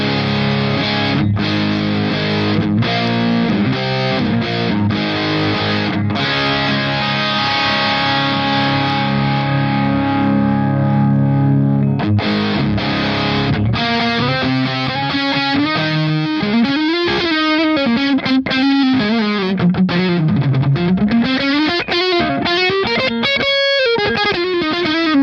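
An electric guitar plays through a MoVall Crazy Screamer distortion pedal with its tone set low for a warm, less bright sound: loud, sustained distorted chords give way to bending single-note lead lines.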